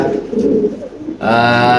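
White fancy pigeons coo softly in low, throaty murmurs, then a voice cuts in and talks over them.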